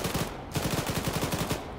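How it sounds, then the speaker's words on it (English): A tank-mounted 7.62 machine gun in Arma 3 fires in rapid, rhythmic bursts, loud and close, with a brief pause between the first and second bursts. "Nope, just shoot and see where it goes."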